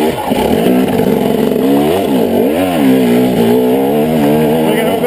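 A dirt bike on an off-road trail at Hamsterley revs loud and close, its engine pitch swinging up and down constantly as the rider works the throttle over rough ground.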